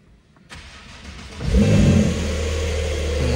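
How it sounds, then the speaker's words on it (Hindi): A Porsche 911 Carrera S cranks and fires up, the engine catching with a sharp rise into a loud rev before settling into a deep, rumbling idle, heard close and alone. "करते हैं एक बार गाड़ी को स्टार्ट।"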